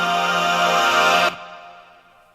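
A rich, many-voiced synthesized chord stacked up to the seventh and upper octave sustains brightly for just over a second, then cuts off and fades away slowly.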